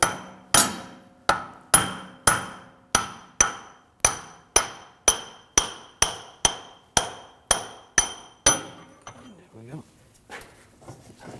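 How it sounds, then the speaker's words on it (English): Sharp metal-on-metal hammer blows drive a punch against a BMW 328i rear axle during wheel bearing replacement, about sixteen evenly spaced, loud, ringing strikes in a steady rhythm before a quieter rattle of the axle at the end. "Now I'm going to take a punch and just push the axle the rest of the way through."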